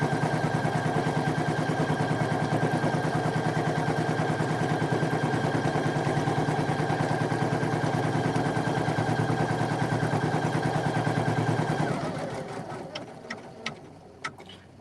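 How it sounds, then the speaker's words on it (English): A Poolin EOC06 single-needle embroidery machine stitching a patch, a loud, fast, even mechanical chatter running steadily for about twelve seconds, then winding down into a few separate clicks and knocks. "Is the machine too loud? This one isn't as loud as the 5 at all."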